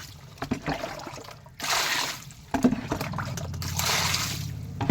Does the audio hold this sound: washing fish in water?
yes